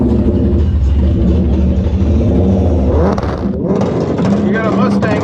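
A drag racing car accelerates down an eighth-mile strip, a loud sustained engine roar that climbs and holds, with a voice over it near the end.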